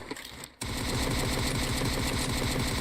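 Rapid automatic gunfire from the battle royale game PUBG Mobile rattles in a dense, continuous burst after a brief lull, loud and close for the rest of the clip.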